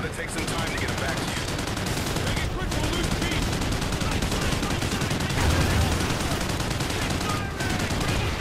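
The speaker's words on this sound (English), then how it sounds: "Get me on the minigun! Just get me to shoot the crap out of him" Continuous, dense roar of minigun fire in Call of Duty Ghosts, loud and unbroken for several seconds with a few brief dips, and voices shouting faintly underneath.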